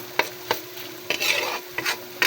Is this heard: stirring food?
yes